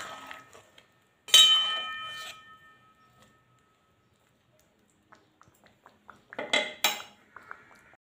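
Spoon stirring garam masala into a simmering pot of chickpea-lentil dhoka curry, with two loud clinking bursts of metal against the pot, the first early and the second near the end, separated by faint scraping and quiet stretches.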